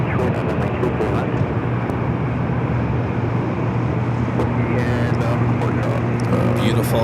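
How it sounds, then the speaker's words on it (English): An Airbus A330 arriving at Los Angeles airport makes a loud, steady jet roar that fills the scene throughout, with scattered clicks and faint background noise. "Beautiful arrival on that A330 Sky Brine PSP"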